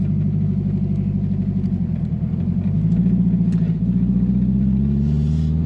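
A Renault 5 Turbo 2, a 220 hp car weighing 800 kg, idles close by with a loud, steady, throbbing engine rumble that swells a little midway, with no talking.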